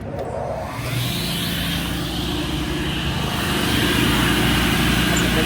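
Big motor of a Craftsman Professional table saw running steadily at close range, a continuous loud hum with a constant pitch that holds and swells slightly over the span, with no talking.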